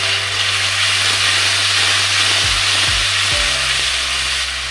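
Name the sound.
spice masala with tomato paste frying in a pan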